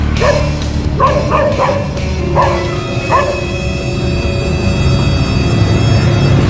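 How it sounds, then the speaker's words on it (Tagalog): A dog barks several times in quick succession, some distance away, over a constant loud rumble of wind or engine noise. "Legit na aso yun"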